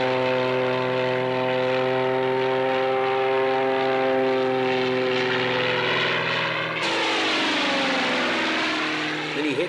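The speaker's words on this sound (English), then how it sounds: "-24 utility aircraft, flown by Mark Houston, is marked by the much noisier 400 horsepower Lycoming flat 8 piston engine" A Fletcher FU-24 agricultural utility aircraft with a 400 hp Lycoming flat-eight piston engine drones loudly and steadily at an airshow in New Zealand, its propeller note rising and sweeping sharply in pitch as it roars past close by.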